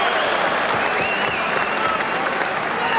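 A boxing crowd applauds and cheers at the Lloyd Honeyghan versus R.W. Smith fight, a continuous roar of clapping that fills the whole moment.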